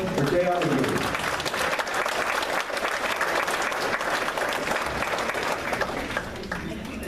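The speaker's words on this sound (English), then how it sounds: "Folks, let's give a big round of applause for J.R. McGee." A big round of applause from the audience at a Berks County Patriots meeting as a guest speaker comes to the podium, dense sustained clapping filling the room for the whole stretch.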